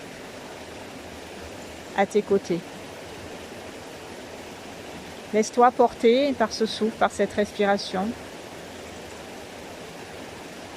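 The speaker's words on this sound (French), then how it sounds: "comme l'eau du ruisseau que tu entends, qui est juste là" A continuous soft rush of a nearby flowing stream fills the background while a calm voice speaks softly over it in short phrases.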